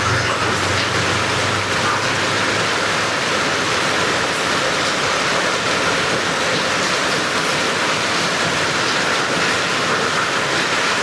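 Steady heavy rain pours down outside a barbershop, a dense continuous hiss that stays even and loud from start to finish with no talking.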